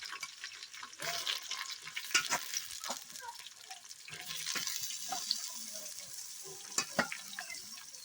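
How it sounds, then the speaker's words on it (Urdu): Turnips and onions are stirred in a pan for a Kashmiri chicken and turnip dish, making close scraping stirs and clinks over a soft, steady sizzle, with no talk. "اَمہِ پَتہٕ کَرو أسۍ اَتھ منٛز یِم گۄگجہِ ایڈ یِم أسۍ پھٕکَر دِتھ ٲسۍ تھٲیمٕتۍ."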